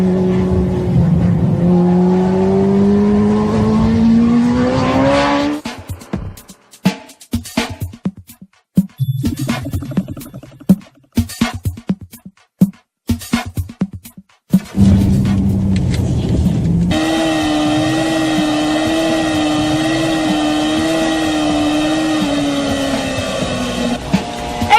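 A motorcycle engine revs unevenly through a corner as the rider rolls the throttle on and off, the loud drone breaking into choppy, stuttering bursts before surging back to a steady, wavering pitch.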